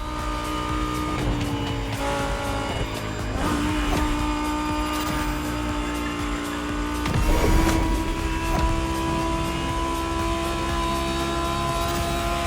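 A Lamborghini Egoista accelerating hard in the racing game The Crew Motorfest, its engine droning loudly and steadily with rising tones, gear shifts and a surge around the middle, with no talk.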